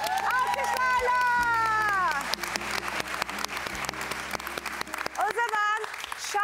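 Audience applause at a wedding staged on a Turkish cooking competition show, steady clapping mixed with crowd noise and music-like tones, with voices heard over it at times.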